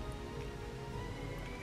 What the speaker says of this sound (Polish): Deszcz chyba pada.